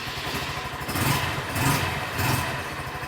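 A petrol motorcycle bought at auction sits close by, its engine running at idle with a quiet exhaust and a steady pulsing putter that swells a few times in gentle rhythmic surges.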